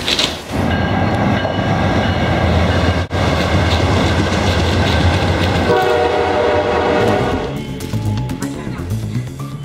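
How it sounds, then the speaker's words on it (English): A train rumbles past close by, a loud sustained roar with a horn blaring, then the noise thins as it moves on. "I think the train's coming"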